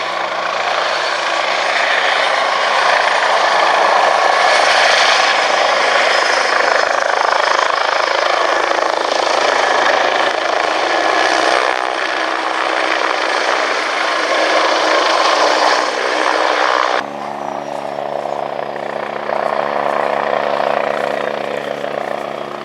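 A Westland Wasp helicopter runs loudly and steadily nearby at an airshow, its rotor and turbine drone filling the air, the pitch shifting slightly toward the end.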